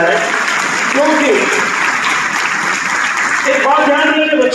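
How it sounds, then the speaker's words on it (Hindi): Strong applause from a crowd for a young speaker named Kartik, a steady dense wash of clapping that is loud and close, with faint voices underneath. "हम लोग कार्तिक के लिए जोरदार तालियां बजाएं"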